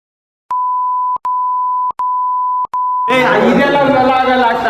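Four steady electronic beep tones in a row, each sustained and separated by short gaps, clean and loud, then cut off by a burst of noisy talk or crowd sound.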